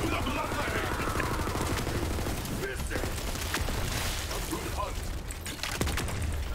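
A Vector submachine gun fired in the Borderlands video game, a dense, continuous rattle of rapid shots with booming impacts and game noise throughout, loud and close.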